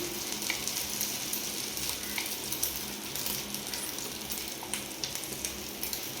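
Beaten egg sizzles in a frying pan as a steady bright crackle and hiss, close and moderately loud, with a few small clicks and taps from a utensil over the continuous frying noise.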